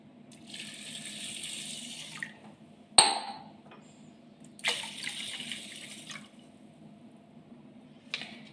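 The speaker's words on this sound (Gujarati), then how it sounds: "આ વરસાદનું પાણી છે એ આપણે 2 ગ્લાસ આખા ભરી અને નાખી દઈએ" Rainwater poured from a glass into a pot of rice, a steady splashing pour in bursts of about two seconds with a sharp clunk between them and a final brief splash, heard alone.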